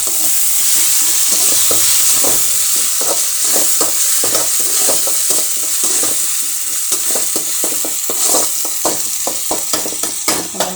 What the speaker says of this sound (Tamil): வெங்காயம் எப்படி வதங்கி வருது பாருங்கள் நல்லா எண்ணெய் பிரிஞ்சு